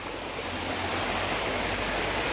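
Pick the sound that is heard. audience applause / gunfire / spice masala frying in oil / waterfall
waterfall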